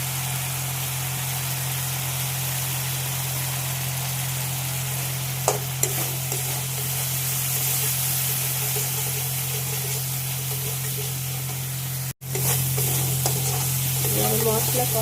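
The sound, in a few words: spices with turmeric sautéing in oil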